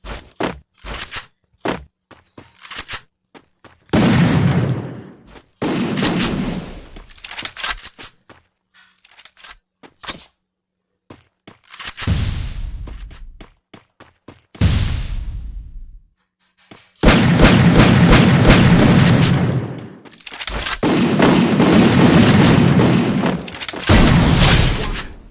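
Gunfire in the battle-royale game Free Fire: bursts of loud shots and booms come in clusters, with dense rapid volleys in the second half and sharp single cracks between them, and no talk over the shooting.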